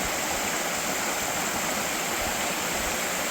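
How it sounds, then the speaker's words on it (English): Waterfalls and river rushing in Odaesan National Park, South Korea: a steady, dense broadband roar of falling water, close and loud, continuous without break and with no voices. "The waterfalls, man."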